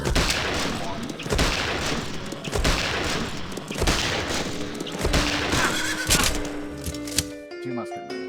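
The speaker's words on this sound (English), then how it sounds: "They got horses up there." Horse whinnies ring out amid a dense game battle soundscape of gunfire volleys and clashing impacts, with music swelling near the end.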